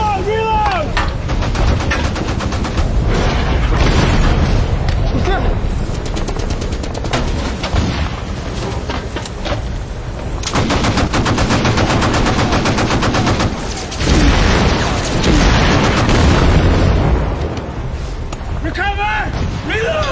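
Rapid bursts of naval gunfire and heavy booms from a warship in a war film battle, dense and loud throughout with shouted commands over the shooting and a brief lull midway.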